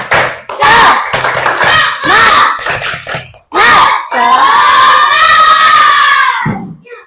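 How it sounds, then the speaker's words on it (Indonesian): Schoolchildren in an Indonesian religious-education class perform the tepuk semangat spirit clap chant, loud rhythmic clap bursts alternating with shouted chant syllables, ending in a long, sustained group shout close by. "sebelum mengerjakan tugasnya kita tepuk semangat dulu ya"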